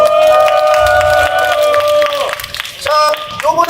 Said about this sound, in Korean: 정광석 동지께 다시 한번 뜨거운 박수 보내주시기 바랍니다